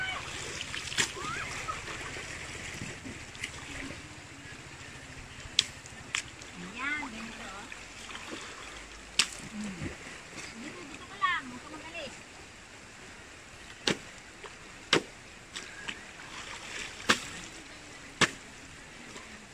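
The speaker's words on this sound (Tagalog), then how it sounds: "Ganito maglaba sa ilog." Laundry being washed and rinsed by hand in a river, with repeated sharp splashes and slaps of wet cloth over steady flowing water, as someone talks throughout.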